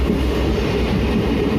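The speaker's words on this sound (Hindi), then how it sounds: "ऊपर से ट्रेन, नीचे से ट्रेन जा रहा है, बहुत रेयर है।" A train runs along an unelectrified railway line near Siliguri, a steady close rumble of wheels and carriages that continues without a break for a moment, with no voices.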